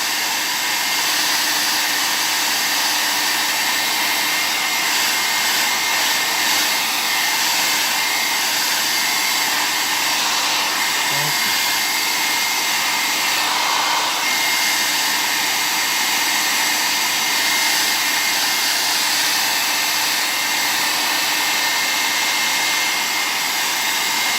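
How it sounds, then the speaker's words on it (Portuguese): A hair dryer on setting 2 runs steadily with a constant whooshing, drying a coat of primer paint, loud and close, for the whole stretch with no voices. "secador de cabelo nesse nível 2"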